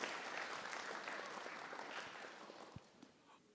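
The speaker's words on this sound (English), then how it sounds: "give yourselves a round of applause, please" A high school marching band concert audience claps in a full round of applause that gradually thins and fades, with a few scattered claps left near the end.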